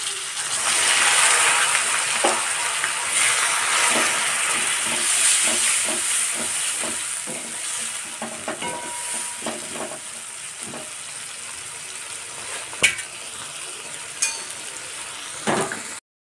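Chopped onions sizzle and hiss steadily in a hot pan for a pav bhaji dish, a bright continuous frying crackle with occasional spoon scrapes and stirring clicks, strongest early and easing slightly later, no talking.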